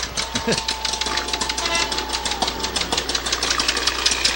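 A 1927 John Deere two-cycle tractor engine chugs with a rapid, uneven knocking beat, running steadily nearby amid outdoor background noise at a parade.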